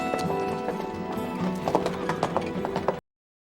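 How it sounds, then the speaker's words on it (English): A horse's hooves clip-clop steadily as it rides off in the TV series Charmed, with a whinny, a busy bed of music and sound, and brief voices mixed in before the sound cuts out. "just letting a random woman ride off on a horse"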